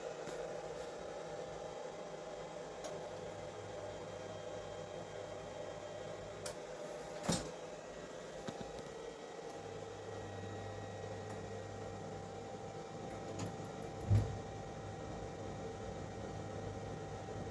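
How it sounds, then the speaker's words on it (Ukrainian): A gas heating boiler runs off a battery and inverter, giving a low, steady hum and whir with a faint hiss throughout, broken only by a couple of brief soft clicks. "Вімкнув котел, зараз буде проводити розпалюватись."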